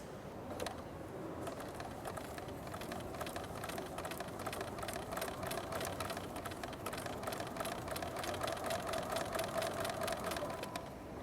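A sewing machine runs steadily, stitching curved quilt pieces together for an art quilt, a rapid even mechanical whirr and needle patter at moderate distance with no talking.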